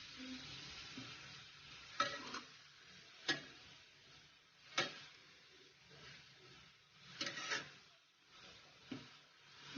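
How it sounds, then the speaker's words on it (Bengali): Grated carrots and sugar being stirred in a pan for carrot halwa, soft sizzling under repeated scraping strokes of a spoon, several distinct clanks spaced a second or two apart, close and quiet. "এখন চিনিটার সাথে গাজরটা ভালোভাবে মিশিয়ে ফেলতে হবে"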